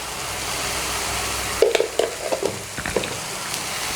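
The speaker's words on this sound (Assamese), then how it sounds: "বিলাহী আৰু পিঁয়াজৰ যিটো কেঁচা ভাৱ সেইটো অলপ আঁতৰাই ল'ব লাগিব, এনেকৈ অলপ ভাজি লৈ পেলাই।" Tomato and onion fry in oil for kofta curry gravy, a steady sizzle from the pan broken by a few close scraping stirs of a spoon partway through.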